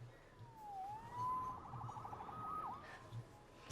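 A police siren from the video game Marvel's Spider-Man Remastered wails in a few rising and falling sweeps, faint and somewhat distant against a quiet background.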